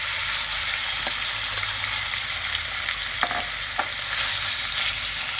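Boneless chicken cubes frying in hot oil in a pan for chicken tikka sandwiches, giving a loud, continuous sizzle with occasional stirring knocks and scrapes.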